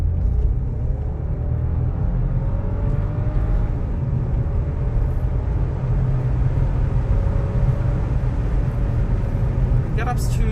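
A 2022 VW Polo R-Line with a 1.0 TSI 85 kW engine accelerating at full throttle, its engine drone rising steadily in pitch over heavy road rumble throughout.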